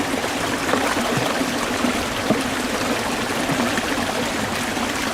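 Water trickles and pours steadily into a bucket made from a large-diameter PVC pipe with a cap, a continuous bright splashing stream with no talk.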